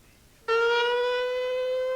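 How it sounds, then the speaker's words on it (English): A civil defense siren atop the firehouse in Orting, Washington, sounds its noon test, starting abruptly after a brief quiet moment and holding a loud, steady, rich tone. "Every day at noon, the siren atop the firehouse in Orting, Washington, is tested."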